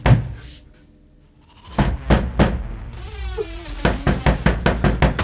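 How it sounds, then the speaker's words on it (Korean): Knocking on a door in a Korean mystery drama, a few sharp raps at first, then after a pause a faster, more insistent series of hard knocks, loud and close, with a faint tonal sound in between. "정확히 11시 정각이 되자마자 노크를 하기 시작하는데"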